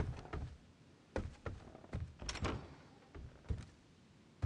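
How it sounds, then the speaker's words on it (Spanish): A door being opened in the battle royale game H1Z1: a series of soft thunks and sliding knocks spaced across a few seconds, fairly quiet and close, with no voices. "Se escucha cómo abren la puerta"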